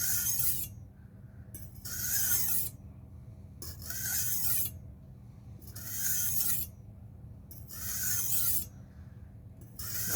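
A kitchen knife scrapes across a grit stone in steady, repeated strokes, five bright rasping passes separated by short pauses, close and alone with no voices.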